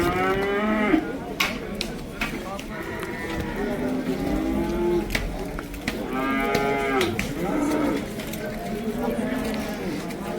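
Calves mooing at a Karabulak livestock market, a steady string of overlapping bleating moos, close and loud, with people talking among the animals throughout.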